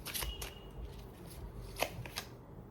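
A tarot card is drawn from the deck, giving soft, close card slides and flicks with one sharper snap near the middle over quiet room noise.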